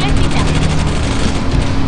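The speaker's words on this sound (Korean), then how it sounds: "총소리 좀 나는거 보니까 어딘가 싸우고 있는거 같은데" Dense gunfire rattles continuously in PlanetSide 2 during a large battle, loud rapid bursts blending into one another.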